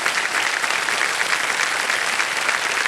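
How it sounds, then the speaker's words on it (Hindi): Steady, dense applause from a studio audience on a game show set, loud and continuous throughout with no other sounds standing out. "तालियां बज जाए इनके लिए।"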